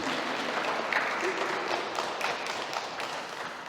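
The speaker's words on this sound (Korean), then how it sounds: "우리 영광의 박수 한번 크게 치겠습니다." A congregation applauds during a Korean church Sunday service in Berlin. Dense, steady clapping from a crowd fills the room for several seconds, with no break.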